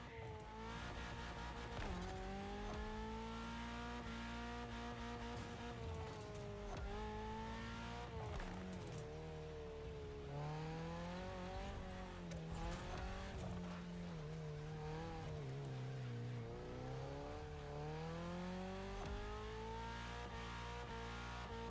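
A Mitsubishi Evo X drives in The Crew Motorfest racing game, its engine droning steadily throughout with rising and falling revs, loud and continuous with no talk over it.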